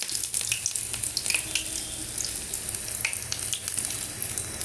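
Flattened pieces of dough for a teatime snack sizzle steadily in hot oil, a dense continuous crackle and hiss with no talking over it.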